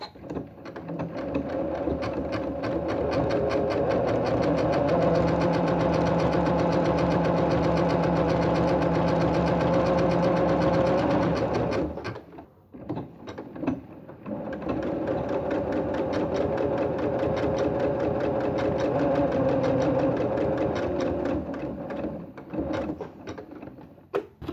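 A sewing machine fitted with a twin needle runs utility stitches in two long, steady mechanical bursts. Dense gear-like clatter and rhythmic needle ticking carry the first half, then a brief pause and softer handling noises, then the whirring starts again.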